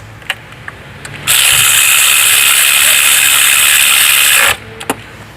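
Tightening bolts by cross-pattern during fuel injector cleaning on an engine: a few light clicks, then a loud continuous high buzzing run of about three seconds, followed by more scattered clicks, with no talk.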